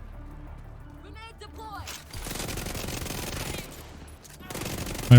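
A Vector submachine gun in The Division 2 fires in long, rapid bursts with no recoil, a dense rattling stream broken by short pauses, while someone talks over the gunfire.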